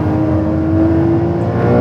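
A new-generation Porsche 911 turbo engine at speed on the Velo Città race track, a loud, close, sustained mechanical drone with a steady pitch, holding on without pause.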